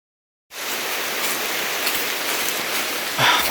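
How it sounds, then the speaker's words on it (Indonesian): Rain pours steadily outdoors near a mountain, a dense, even hiss of drops striking surfaces that starts abruptly after a brief silence and stays loud and close throughout. "Oke guys, pas hujan guys."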